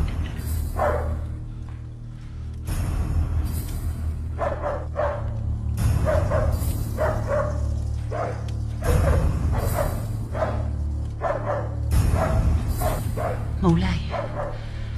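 A dog barks in repeated bursts a few seconds apart, loud and close, during a dramatic period film scene, with voices mixed in around the barks.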